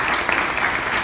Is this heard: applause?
yes